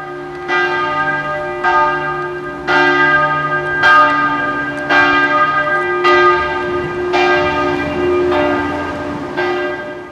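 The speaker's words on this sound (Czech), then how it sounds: "Lungernský kostel nás při našem příjezdu vítal svými zvony." Church bells ring at noon in the village of Lungern, loud and close, with repeated strikes roughly every second over a sustained, humming resonance.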